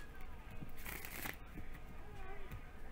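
A quick, rippling riffle of playing cards being shuffled, a short crisp burst over faint background noise.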